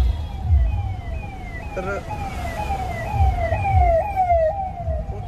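An Uttar Pradesh police car siren wails in a repeating rising sweep, heard from inside a moving truck over low road rumble, with a brief spoken word partway through.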